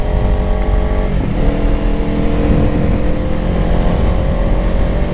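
A 2024 Kawasaki Ninja 500 with its 451cc engine runs steadily while being ridden, a loud, continuous drone with a brief dip in pitch around a gear change, then holding steady without any talking.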